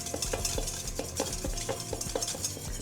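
Extra virgin olive oil being whisked into a dressing in a kitchen bowl, a quick steady rhythm of light clinking strokes, close and fairly quiet, with no talking.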